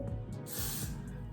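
Hairspray hissing onto hair during a 90s-style wig install, a close, steady aerosol burst lasting about a second with short puffs around it, no talking.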